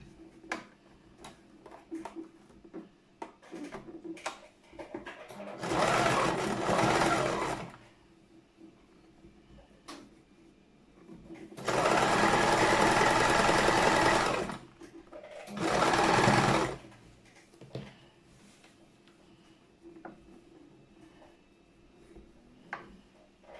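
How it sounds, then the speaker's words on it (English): Sewing machine stitching a short kimono jacket, three bursts of fast, steady whirring and ticking, the longest about three seconds, separated by quieter handling clicks and rustles. "So we have to sew"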